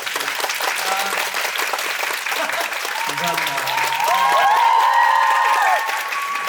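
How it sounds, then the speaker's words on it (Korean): Theatre audience applauding at the curtain call of a musical, steady dense clapping throughout with a swell of cheering midway, while a performer speaks over it. "그 박수 한번 좀 부탁드리면 안 될까요?"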